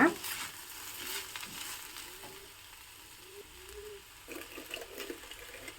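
Food roasting in a pan for a Havyaka-style mustard dish gives a faint, steady sizzle with soft scraping and stirring and a few wet pops, low in level and without talk.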